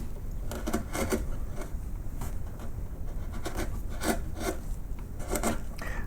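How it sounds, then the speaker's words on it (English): A number 10 gouge carving linenfold in wood, with repeated short scraping and rasping strokes in an irregular rhythm, close and fairly quiet, and no talk. "I'm using a number 10 gouge, which is slightly flatter on the side, so I can tilt it over and level off a little bit"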